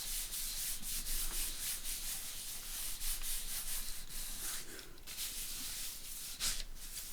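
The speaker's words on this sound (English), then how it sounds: "Just rubbing it gently over that magnet." Paper is rubbed gently over a magnet while making tri-fold journal pages, producing a continuous soft scratchy rubbing with rhythmic strokes throughout.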